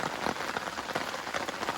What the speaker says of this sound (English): just waiting till this rain stops